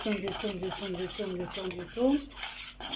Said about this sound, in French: Là, je remue jusqu'à l'obtention de ma pâte.